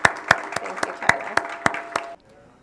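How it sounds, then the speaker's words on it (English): Applause from a school audience welcoming a visiting student artist, a dense patter of claps with a few sharp, close hand claps standing out, lasting about two seconds before cutting off abruptly into quiet. "let's give Tyler an awesome round of applause for being with us today."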